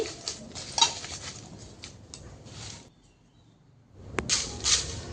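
Dry onion peels tossed and stirred in an empty, dry wok, making light rustling and scraping clatter with a few sharper clinks, with a brief quiet gap before the stirring resumes.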